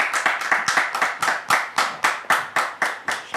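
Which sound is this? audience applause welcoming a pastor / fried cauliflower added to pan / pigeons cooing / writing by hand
audience applause welcoming a pastor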